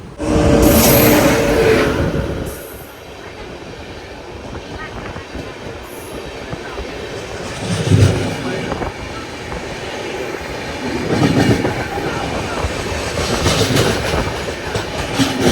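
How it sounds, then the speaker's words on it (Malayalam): The Navajeevan Express passenger train, running from Chennai to Ahmedabad, rolls past with rhythmic clickety-clack, rumble and brief wheel squeals that swell and fade, while voices talk nearby. "ചെന്നൈയിൽ നിന്ന് അഹമ്മദാബാദ് പോകുന്ന നവജീവൻ എക്സ്പ്രസ് ആട്ടോ ഈ പോകുന്നത്."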